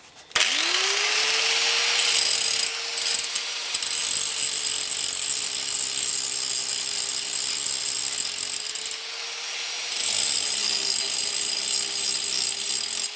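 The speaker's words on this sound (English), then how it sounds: "I'm going to grind off this edge part and then I'll start working on these numbers" An angle grinder grinds steadily and loudly at the edge of a valve cover being shaved, a sustained high whine that barely drops in pitch through the cut, briefly easing near the end before resuming.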